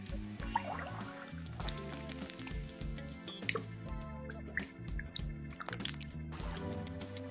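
Water pouring and dripping in a purified-water advertisement, with soft trickling, sloshing and scattered drips, faint and continuous with no talk.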